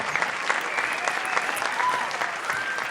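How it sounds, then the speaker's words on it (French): A studio audience applauds a jury member of a televised rumba music talent competition, a steady wash of dense clapping filling the full three seconds at an even, moderate level. "sous vos applaudissements s'il vous plaît"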